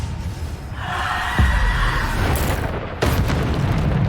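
Bombarda explosion spell in Hogwarts Legacy combat: a deep, loud boom lands partway through over continuous battle rumble, followed by a second sharp blast shortly after.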